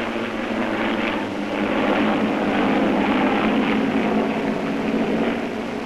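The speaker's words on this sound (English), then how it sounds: "spectacular feats of aviation of a different kind are performed by Army, Navy, and commercial planes at the All-America Air Show." Army, Navy and commercial propeller planes perform stunts at the All-America Air Show in Florida, a steady loud engine drone swelling slightly as they pass, with no talk.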